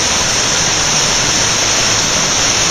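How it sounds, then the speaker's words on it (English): Forest creek water rushing over fresh gravel, a loud, dense, steady broadband roar with no pauses, heard up close and alone. "There's the creek right down there."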